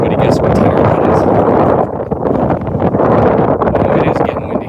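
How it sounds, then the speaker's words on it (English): Strong outdoor wind buffets the microphone with loud, continuous roaring gusts that rise and dip for the whole stretch. "Oh, it is getting windy."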